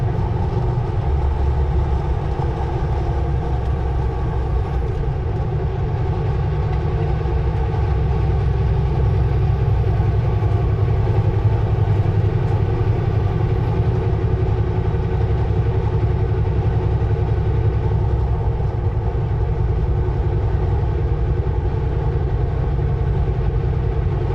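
A long freight train rumbles past continuously, a deep steady roar of engines and wheels with a faint high whine above, no voices.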